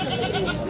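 A goat bleats briefly amid the steady crowd noise of a busy goat market in Washim.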